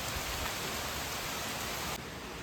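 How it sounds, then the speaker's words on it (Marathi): Heavy monsoon rain pours down in a dense, even hiss that fills the whole stretch, steady and loud with no voices, easing slightly near the end. "पाऊस खूप प्रमाणात पडत आहे"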